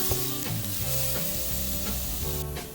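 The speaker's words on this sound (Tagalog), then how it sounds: "Gisahin lang natin yung bawang, sibuyas, luya." Garlic, onion and ginger sauté in a hot pan, a steady close sizzle with scraping stirs and light clinks of a utensil running throughout, no talk.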